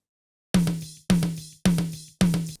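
An isolated tom drum track in a mix: four evenly spaced resonant tom hits, each with a sharp attack and a short, clean decay, ringing alone and fairly loud with silence before the first stroke.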